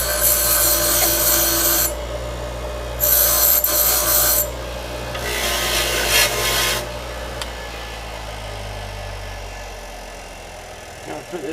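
Rasping file or sander smoothing off a cut weld on a Nissan Skyline GTR trunk part, coming in several loud scraping bursts of a second or two each over steady background noise.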